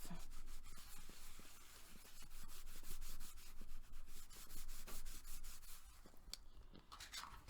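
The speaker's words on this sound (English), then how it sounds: "I'm going to go ahead and burnish that and get the excess glue off." Close, quiet rubbing strokes as a tool burnishes a glued paper craft piece to work off excess glue, a steady scratchy friction in quick repeated passes.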